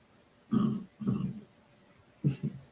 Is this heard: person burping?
yes